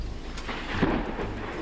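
Thunder rumbles low and heavy through steady rain during the Joplin EF5 tornado storm, a broad, rolling boom that swells midway and then eases, with rain hiss throughout.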